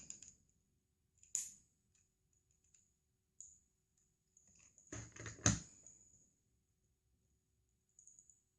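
Scissors cutting thick black cardstock for a pompom animal craft, with scattered faint snips and clicks and a denser cluster of louder cutting sounds midway, no talk.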